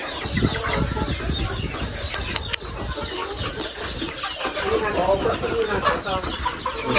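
Farm chickens cluck and crow amid a busy outdoor wash of noise, with a faint voice somewhere in the mix.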